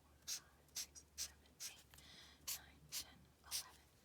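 A pencil crossing out tomatoes on a worksheet, heard as about seven short, scratchy strokes at a steady pace, soft and close, with faint breathy voice sounds in between.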